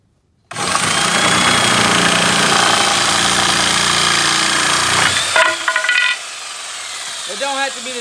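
A power tool cuts a piece of wood for a truck flag pole holder, a loud, close, steady buzzing whine that runs several seconds, then stops abruptly, followed by brief clatter and a person talking.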